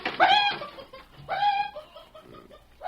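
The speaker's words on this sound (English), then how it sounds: "get out of here, you squawking old hen" A hen squawks and clucks in two or three short, harsh bursts with brief pauses between them, close by, and no talking.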